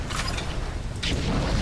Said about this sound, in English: then we're gonna keep this, reload it